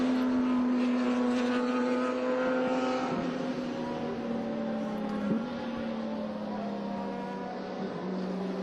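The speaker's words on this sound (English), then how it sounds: "Okay, the pace car. I'm listening to the pace car." A pace car engine drones through a race of air-cooled Porsches, a steady sustained tone that gradually drops in pitch, heard from a distance with a faint blip partway through.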